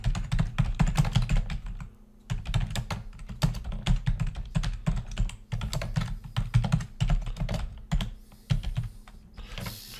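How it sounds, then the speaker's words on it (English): Close, brisk typing on a computer keyboard, with dense rapid keystroke clatter in bursts, brief pauses between words and lines, and a few heavier key presses. "And now I can go to the second line and type my department name."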